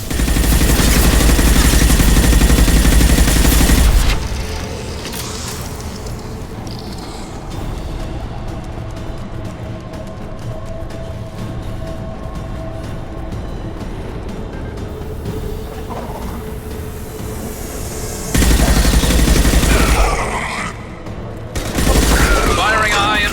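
Loud video game gunfire with heavy high-impact shots, dense booming bursts opening and closing the stretch, with rumbling vehicle-like noise and quieter combat sounds between.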